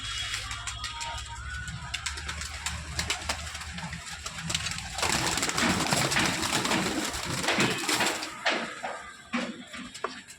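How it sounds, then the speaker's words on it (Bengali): Pigeons coo and flutter close by, with bursts of wing flapping growing busier partway through against a steady outdoor background. "কবুতরগুলা উড়াউড়ি করতেছে"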